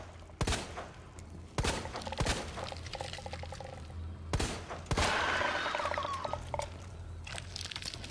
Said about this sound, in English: taking shots with the 1911, trying to down her, trying to down the Ivy